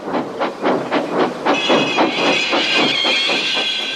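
Thomas the Tank Engine, a cartoon steam locomotive, puffs in a steady rhythm of loud chuffs, then a sustained high steam whistle joins the puffing halfway through, with no voices.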